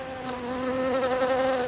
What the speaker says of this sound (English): Now, there were bees.